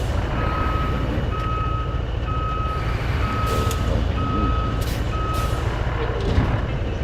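A truck reversing in the Roadcraft video game, its backup alarm beeping in an even, repeating rhythm over a loud rumbling engine, with brief hissing bursts like air brakes.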